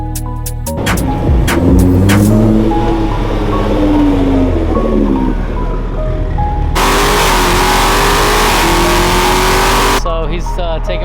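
A car engine revs hard under acceleration, pitch climbing through gears, then a loud sustained high roar near the end, close and dominant with voices mixed in.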